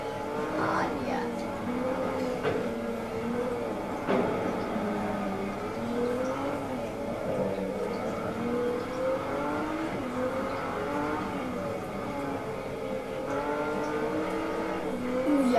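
A Nissan R3 race car engine from the Forza Motorsport 3 video game revs with sweeping rises and falls in pitch, and a few tire squeals. The engine runs steadily throughout under a player's talk.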